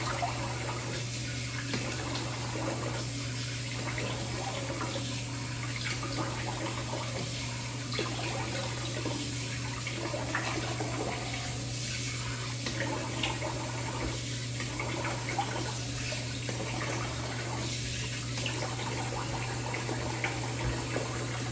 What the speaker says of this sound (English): let's get this rinsed off